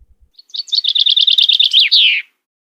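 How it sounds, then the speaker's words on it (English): A bird in a green forest sings one close, loud phrase of rapid repeated high chirps, ending in a downward slurred note, with quiet before and after. "chirping birds"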